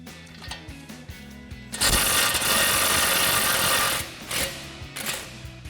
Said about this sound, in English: we'll grab a 21 mil socket on our impact, remove the nut